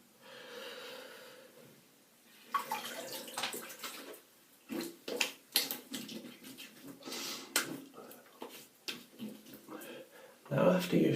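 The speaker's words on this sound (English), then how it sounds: "Give my brush a quick rinse and pop it up there." A shaving brush rinsed under running water at a sink, an irregular splashing and trickling with bursts of gurgle, close and fairly quiet, a few faint breaths or voice sounds mixed in.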